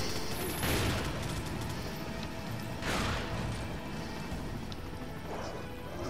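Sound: pistol gunfire in Resident Evil 4 video game

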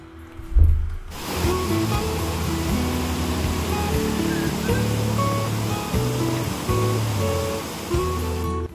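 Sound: roadside waterfall

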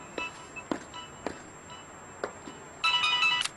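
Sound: telephone ringing

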